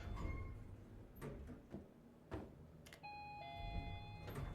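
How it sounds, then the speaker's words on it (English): A clean electronic elevator chime rings out with sustained tones in the video game The Operator, quiet and close over soft background rumble and a few scattered clicks and thumps. "whoosh. Elevator sounds."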